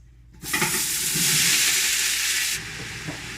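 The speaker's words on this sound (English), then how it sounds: "All right, so this is hot now. I'm gonna add all the veggies." Vegetables dropped into a hot pan for a Paraguayan dish burst into loud, bright frying and sizzling, a sudden wash of hiss that holds steady for about two seconds, then drops to a quieter, continuing crackle.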